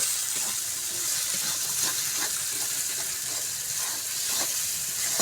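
Spice paste sizzling as it fries in oil for Bangladeshi beef bhuna, a steady close hiss and crackle running evenly throughout with no talk.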